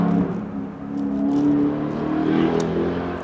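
A Mercedes revs its engine and drives past nearby, a steady throaty drone that swells and eases over a few seconds.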